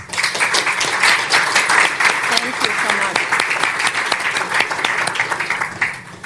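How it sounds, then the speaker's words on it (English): Audience at an investor day event applauds the panelists with steady dense clapping throughout, close and full, while a voice briefly speaks over it. "Let's give them a big round of applause."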